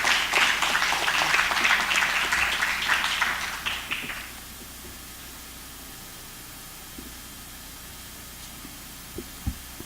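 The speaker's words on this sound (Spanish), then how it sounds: "Un aplauso para él." An audience applauds for about four seconds at a Spanish-language civic forum on children and elections, steady clapping that then fades out, leaving quiet room hum with a few faint knocks.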